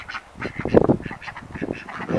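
Farmyard ducks quack repeatedly around a backyard pond with a plank ramp, a busy, fairly close flock calling in overlapping bursts with no talk.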